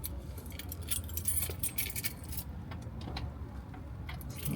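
A large bunch of around a hundred keys jangles and clinks close up as someone sorts through them looking for the right one, in rapid irregular rattles with no speech.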